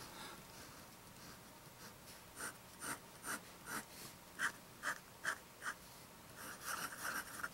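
A Moonman C-1 fountain pen with a fine, firm steel nib scratches across paper in a quiet room, a soft, rhythmic series of short scratchy strokes, close and faint.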